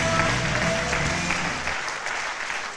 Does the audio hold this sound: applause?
yes